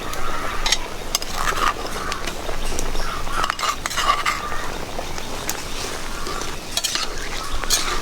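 Village-style fresh fish curry simmering in a pan as fried spice paste is stirred in, giving a steady sizzle and bubbling with scraping spoon-and-pan clinks close by.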